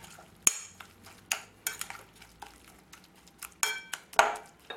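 A spoon clinks and scrapes against a bowl while sardine filling is stirred with water, a series of sharp irregular knocks over quiet kitchen background.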